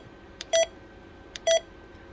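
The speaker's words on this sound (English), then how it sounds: "Roger beep, you can change different beeps" Two short electronic roger beeps from a President Lincoln II+ CB radio, each a brief tone preceded by a tiny click, repeated about a second apart against quiet background hiss.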